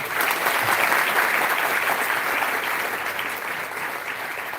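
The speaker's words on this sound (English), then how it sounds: "please clap one more time, please clap louder" A large audience of first-year students at an induction address claps loudly and steadily, a thick continuous wash of many hands that eases slightly toward the end.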